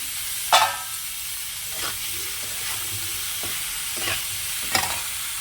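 Spices and garam masala powder sizzle in a pan for a vegetarian biryani, a continuous hiss of frying broken by several sharp scrapes of stirring.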